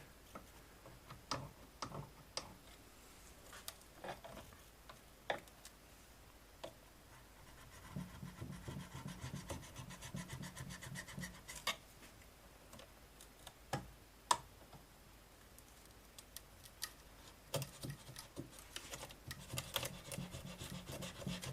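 Plastic connector foot on a Tesla 18.5 kW Gen 3 charger board being cut away with a blade, heard as steady close scraping and rasping strokes punctuated by sharp ticks and clicks, with no talking.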